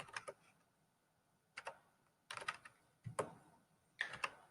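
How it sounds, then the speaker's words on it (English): Computer keyboard keys are pressed in short clusters separated by pauses while data is entered into a spreadsheet, quiet close clicks in bursts of a few strokes each. "Tab, type in his student ID."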